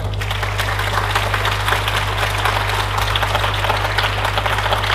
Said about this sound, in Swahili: tumpigie makofi sana kwa kufika kwake